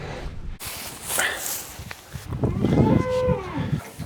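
Hungry calves on a farm moo while waiting to be fed, with one long, close bellow near the end over footsteps and rustling.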